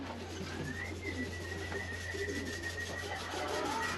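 Racing pigeons coo softly inside a loft, with low repeated calls over a constant background hum and a faint whistle-like tone.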